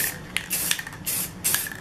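Short hissing bursts of aerosol spray paint on brass hardware, several quick sprays in a row, close and steady, with brief pauses between them.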